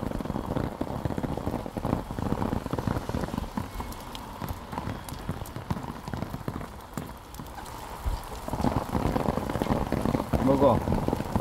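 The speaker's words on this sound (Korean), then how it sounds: "아우, 비가 떨어져갖고, 빗방울 때문에." Rain falls outdoors in steady patters and scattered raindrop hits, moderately close, with soft irregular taps and rustling throughout.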